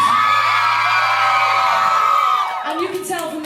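Live concert crowd at a punk show cheering, whooping and shouting loudly and continuously, the roar dipping near the end as a voice shouts over it.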